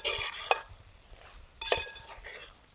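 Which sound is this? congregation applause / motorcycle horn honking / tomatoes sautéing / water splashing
tomatoes sautéing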